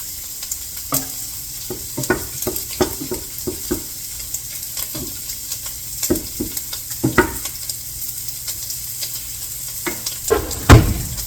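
Sausages sizzle steadily in a hot pan for home-style gumbo, with repeated scraping and stirring clatters of a utensil against the pan breaking through the continuous frying hiss.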